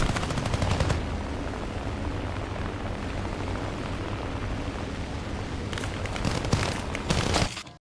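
Rapid bursts of aircraft cannon fire from Hispano cannons in the War Thunder air combat game, loud and dense, with a long sustained stretch followed by sharper repeated volleys toward the end, no talking.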